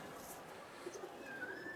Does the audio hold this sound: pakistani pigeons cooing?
yes